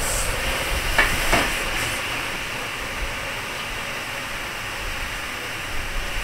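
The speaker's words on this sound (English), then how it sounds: "Yeah, lots of steam, lots of heat." Loud continuous steam hiss rises as water douses a hot biochar fire in a metal burn unit, a broad steady rush with a couple of faint clanks early on.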